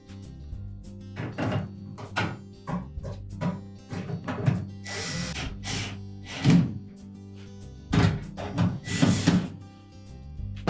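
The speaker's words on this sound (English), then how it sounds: "And then we'll install those 2 brass colored screws." Two brass-colored screws going into the lower edge of a Whirlpool dryer cabinet, with scattered clicks, knocks and metallic taps from the screwdriver and panel, uneven and close up.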